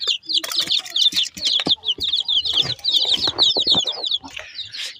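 Chicks chirp rapidly and continuously, close and loud, mixed with lower clucks and rustling from nearby chickens.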